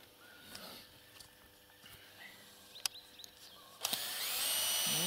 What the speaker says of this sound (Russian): Саморез не могу никак открутить.